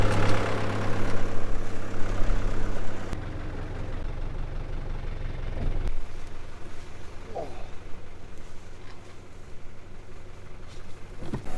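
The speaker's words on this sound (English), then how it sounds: "we're driving along the top of the pumpkin field" A vehicle rolls along the top of a pumpkin field during harvest, its low engine rumble steady and fairly close throughout, louder in the first few seconds, with people talking over it.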